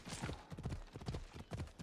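Horse hooves clip-clop at a steady, moderate pace in Assassin's Creed Odyssey, each footfall a clear, close hollow knock in an even rhythm, with no voices over it.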